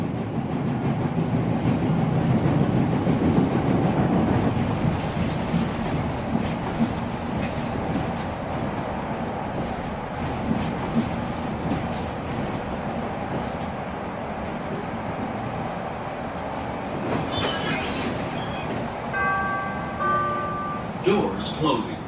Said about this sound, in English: Whenever she could, Vivian would take the train from the northern suburbs where she worked to downtown Chicago.